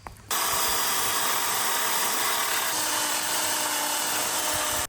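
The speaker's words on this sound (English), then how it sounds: "Next step is going to be to sand this down, and we're going to have to do around the edge too" Power sander working the edge of a cedar fire pit table top, starting abruptly and holding a loud, steady, hissing whir for several seconds before cutting off.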